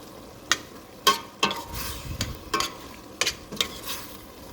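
A spoon stirring hot chili beans in a pot, several distinct scraping knocks at an irregular rhythm over a soft low simmer, close by.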